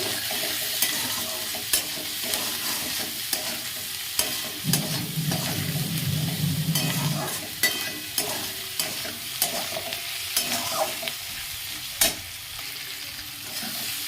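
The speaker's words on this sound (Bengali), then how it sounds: "আমি কাঁচা লঙ্কা আর যে ক্যাপসিকামটা কেটে রেখেছিলাম তো সেটা দিয়ে দিচ্ছি এখন এটাকে দিয়ে একটু ভাজা ভাজা করব" Green chillies, capsicum and onion stir-fried in a pan with salt and sugar for a chilli-chicken-style dish: a steady sizzle runs throughout, broken by repeated scraping taps of a spatula against the pan, with no talking.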